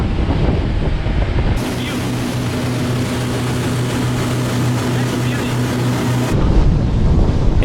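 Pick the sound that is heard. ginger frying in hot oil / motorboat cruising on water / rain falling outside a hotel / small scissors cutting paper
motorboat cruising on water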